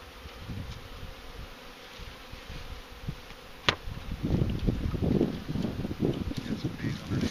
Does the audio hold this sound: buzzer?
no